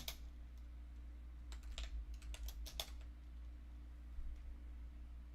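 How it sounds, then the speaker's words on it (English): Quick bursts of clicking keystrokes on a computer keyboard as a name is typed, a few short irregular flurries of taps heard close over a low electrical hum, then quiet. "How come when I type in his fucking name?"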